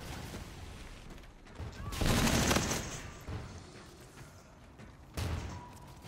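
Hip-fire gunfire bursts from the video game Call of Duty: Infinite Warfare, two loud bursts over a steady game-audio bed, the first around two seconds and a shorter one near the end.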